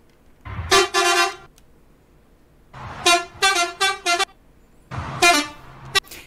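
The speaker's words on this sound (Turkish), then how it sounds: "Yeni röleli korna eklenmiş." A relay truck horn in Euro Truck Simulator 2 blasts three times, loud and close, each blast a different warbling multi-tone pattern with short pauses between.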